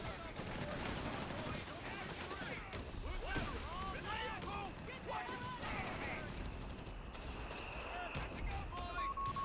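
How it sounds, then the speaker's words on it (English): Mortar shells and gunfire in Company of Heroes 3, dense crackling battle with scattered muffled impacts and bursts of fire, steady and busy throughout, with voices and unit chatter mixed over the combat. "the mortar's starting to hit"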